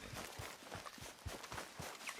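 Horse hooves clip-clop at a steady walking rhythm on the ground in the video game Red Dead Redemption 2, faint and fairly close, with evenly spaced soft thuds and a brief louder sound at the very end.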